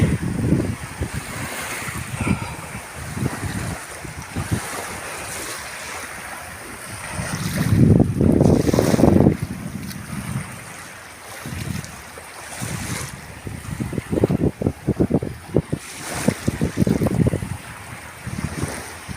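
Wind buffets the microphone over the rush of surf at an Italian seashore, with gusts swelling and easing throughout.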